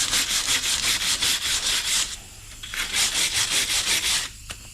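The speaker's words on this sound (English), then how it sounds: "just use a wire brush in here and wire brush the rust on the inside" A wire brush scrubs rust from the inside of trim on a 1948 Chevy truck, giving loud, rapid back-and-forth rasping strokes that pause briefly midway and then resume in a steady rhythm, close and alone.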